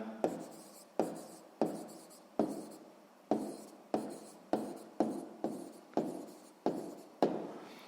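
A pen writes on paper in short, repeated strokes, about a dozen quick scratchy bursts with brief pauses between them, close and clear with no talking.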